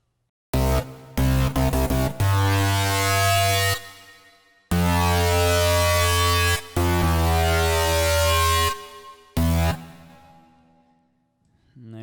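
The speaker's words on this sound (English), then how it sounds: "make a nice Foghorn bass with this" A heavy foghorn-style bass synth built from custom wavetables in Xfer Serum blasts in long, loud, sustained notes with short gaps, punctuated by sharp drum-loop hits.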